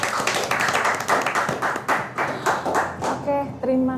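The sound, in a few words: audience clapping hands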